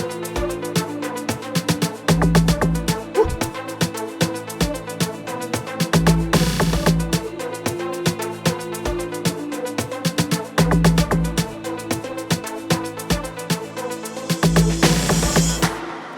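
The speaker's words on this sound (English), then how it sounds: "the only thing I added on this log drum was the decay" A deep, punchy amapiano log drum bass line with added decay thumps in a syncopated groove beneath a busy electronic beat with crisp percussion, loud and upfront.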